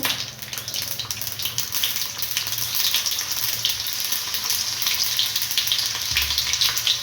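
Mustard seeds and garlic fry in hot oil with a steady, crackling sizzle and scattered small pops, close by and continuous. No one speaks.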